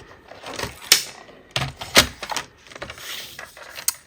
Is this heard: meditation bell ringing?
no